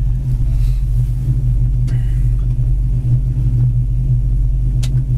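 A restored 1935 Ford with a steel body idles steadily nearby, its low, even engine rumble continuous and loud with no speech over it.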